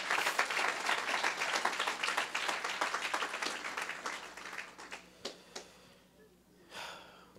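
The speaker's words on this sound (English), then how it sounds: "Let's give the Lord a round of applause." A church congregation applauds during a bilingual Easter Sunday service, dense clapping filling the room for about five seconds before thinning into a few scattered claps and a brief murmur near the end.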